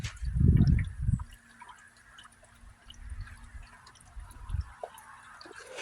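Coolant gurgles and bubbles in a J-series car engine as a radiator hose is squeezed during a thermostat replacement: a few soft, low, separate glugs over quiet background noise.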